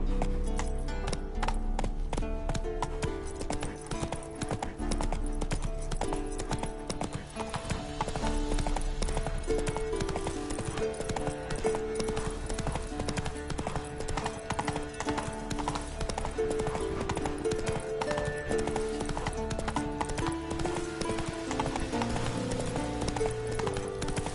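A horse gallops in a video game on PS5 Pro, with rapid, steady hoofbeats running throughout, loud and close over a constant game soundscape.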